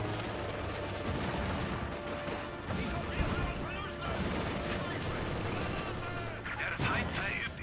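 Gunfire rattles continuously in a Company of Heroes 2 battle, with a shot striking a vehicle wreck amid dense, noisy combat sounds at steady loudness.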